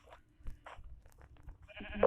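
Blocky Minecraft sheep give a few short bleats on a sheep farm, scattered among soft crunching game sounds, ending with a louder nasal bleat.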